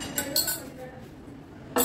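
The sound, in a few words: mixing 2 eggs and 2 cups of sugar in a bowl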